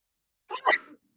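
A single short sneeze, close and fairly loud, with a quick intake of breath leading into the burst, in an otherwise quiet room.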